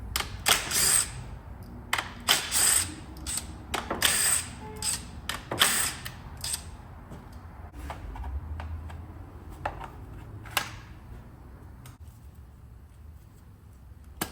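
A ratchet zips bolts off a Honda Civic engine in a series of quick, close clicking bursts, loudest early on, then settling into quieter, sparser clicks and rustling.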